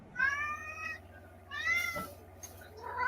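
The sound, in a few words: cat meowing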